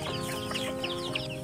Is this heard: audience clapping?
no